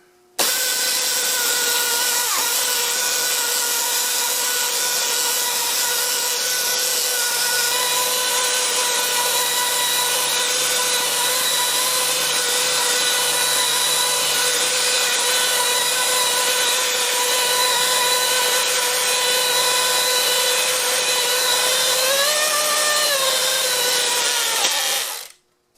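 A belt sander runs on wood with a loud, continuous whirring drone that holds steady for about 25 seconds and then stops abruptly.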